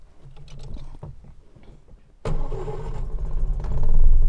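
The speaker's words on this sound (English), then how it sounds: "so I'm gonna start the car." An old Morris car engine cranks and catches after a quiet pause, then settles into a running idle that swells louder toward the end, close by with no talk.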